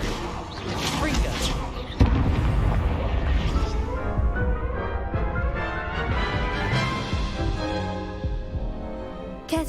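Confringo explosive spell blast in Hogwarts Legacy, a sudden loud boom with a whooshing impact that rolls off into a rumbling tail, mixed with voices and game music.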